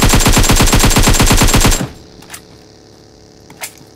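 Rapid automatic gunfire in the PUBG Mobile game rattles out loud and close as a steady burst for about two seconds, then stops, leaving a few faint distant shots and thuds.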